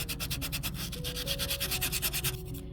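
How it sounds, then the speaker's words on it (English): Wet sandpaper scrubs a small soapstone turtle carving in quick, rhythmic back-and-forth strokes, about a dozen close rasps, that stop abruptly just before the end. "So you keep your sandpaper wet"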